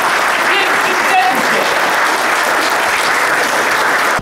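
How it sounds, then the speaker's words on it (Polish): A large audience at an academic conference in Malbork applauds, a loud, steady wash of clapping from the whole room that holds evenly for several seconds and then stops abruptly. "Proszę o olbrzymie oklaski!"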